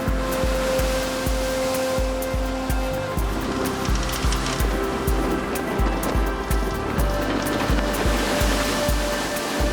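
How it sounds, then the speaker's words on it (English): Steady roaring wash of ocean waves and spray off Cape Horn, a constant broadband rush with a low rumbling drone underneath, no talking. "And the waves there as well."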